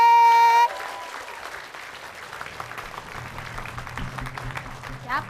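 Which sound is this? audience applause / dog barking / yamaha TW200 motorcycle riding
audience applause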